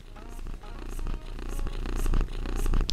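A cat purrs while being brushed with a steel-bristled brush, a soft rhythmic rumble broken by scratchy, repeated brushing strokes close to the microphone.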